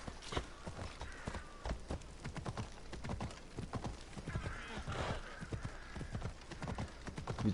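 A horse in a video game, with clip-clopping hooves in a quick irregular rhythm and a couple of whinnying neighs over them. Sounds are moderately close but fairly quiet, with faint talk in the background.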